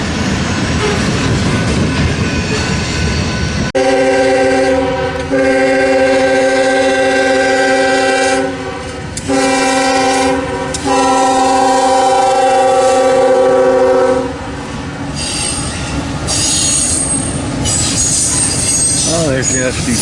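A BNSF freight train led by an SD70MAC diesel locomotive passes at Fremont, Nebraska, on the City subdivision, with loud sustained horn-like tonal blasts and rumbling wagons, wheel squeal and clatter continuing as the cars roll by close.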